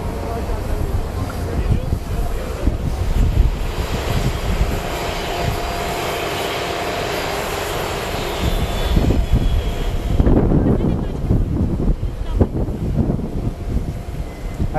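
The Turkish president's fixed-wing airplane arrives at an airport for an official welcome with a guard of honor, its jet engines roaring loudly and steadily, then swelling as it nears while people talk over the noise.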